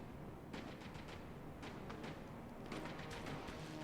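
An automated turret in Terminator: Resistance fires at Terminators in repeated rapid bursts of gunfire, sharp and fairly distant, set against a steady background hum.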